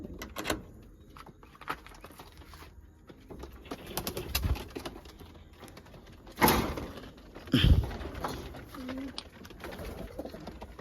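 Pigeons coo on a farm in soft repeated calls amid rustling and clattering noises, with a few louder knocks and a sliding scrape standing out near the middle.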